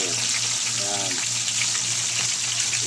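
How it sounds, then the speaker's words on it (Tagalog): Fish fritters (ukoy) fry in hot oil with a constant bright sizzle and crackle. A voice speaks briefly near the start. "Prito lang."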